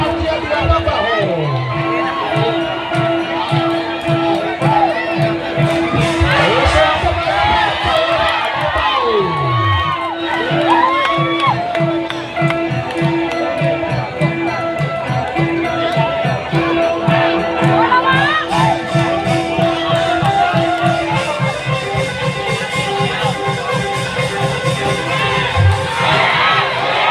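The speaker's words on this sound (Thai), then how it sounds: "ตอนนี้ครับแฟนบอลเชียร์เดือดครับ" Boxing fans in a packed crowd cheering and shouting loudly and continuously, whoops and yells rising in waves, while a commentator talks excitedly over the din.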